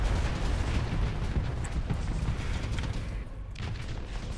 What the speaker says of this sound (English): a lot of our missiles are going to hit debris at this point